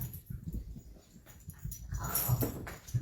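Bonnie, an old dog, whimpers and whines in soft, breathy bursts over shuffling and rustling close by, with a few sharper yips near the end.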